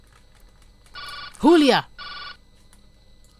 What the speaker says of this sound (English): The phone rang a few times